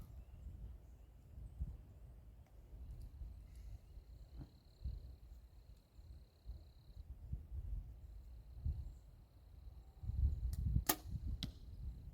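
A second arrow loosed from a bow at an outdoor target, heard as a brief distant impact late in a stretch of quiet outdoor ambience with insects and birds, no talking.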